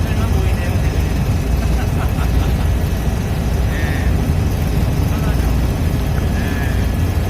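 Helicopter on a nighttime sightseeing tour over Las Vegas, a steady, loud rotor and engine roar that fills the whole stretch without a break.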